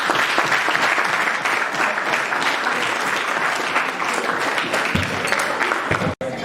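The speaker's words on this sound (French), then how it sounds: "on peut les acclamer." Loud, close crowd applause for representatives at a New Year greetings ceremony, dense continuous clapping filling the whole stretch with a brief dropout near the end.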